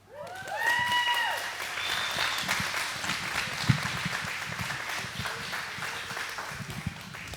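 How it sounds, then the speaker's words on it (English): Guests at a wedding reception clap after the speeches, a moderate, steady patter with a few sharper claps, opening beneath brief sung or cheering voices. "Give them a big round of applause"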